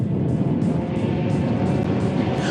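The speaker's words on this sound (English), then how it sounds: "The Formula Fords are very tightly bunched together with lots of jostling for positions." Formula Ford race cars run tightly bunched through a corner at a historic circuit race, making a continuous loud engine roar with overlapping buzzing notes from several cars.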